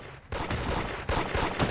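Gunfire in the mobile version of the Roblox game Da Hood comes as two loud, close bursts of rapid shots, each starting abruptly and carrying on with dense crackling.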